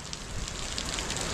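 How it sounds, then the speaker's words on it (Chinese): Rain falls on a Beijing courtyard in a soft, steady patter of drops, faint and brief with no voices. "好嘛，这雨下得太及时了，这都不用养护了啊！"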